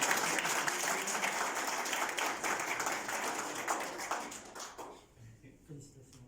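Audience applause at a graduation ceremony for international experts from Africa, a dense wash of clapping that fades out toward the end, with a voice speaking over it.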